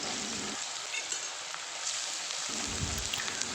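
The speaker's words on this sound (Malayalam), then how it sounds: "ഇനി നമുക്ക് സവാളയും കൂടി വറുത്തെടുക്കാം." Sliced onions frying in oil in a pan for prawn biryani give a dense, even, rain-like sizzle that stays steady and close throughout, with no voices.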